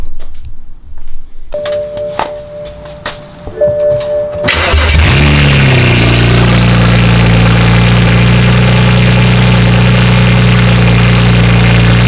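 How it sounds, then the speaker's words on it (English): A BMW 335i with a modified exhaust and secondary catalytic converter deleted chimes a few times, then the engine cranks and roars to life, settling into a loud, deep, rumbling idle with an aggressive exhaust note. "now I'm going to start the car just for fun, and we'll see how loud it is"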